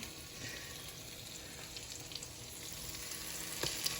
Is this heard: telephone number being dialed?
no